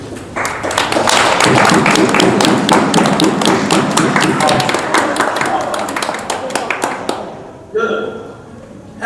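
An audience at a conference breaks into a dense round of applause and thumping that stays loud for several seconds, thins out, then fades as a voice returns.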